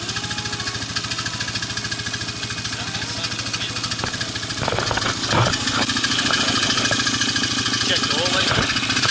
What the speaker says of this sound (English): Hear that? Sound like exhaust leak.